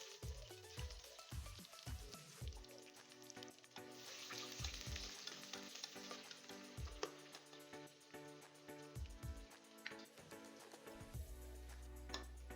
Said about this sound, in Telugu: ఇలాగ బ్రౌన్ కలర్ వచ్చే వరకు వేయించుకోవాలి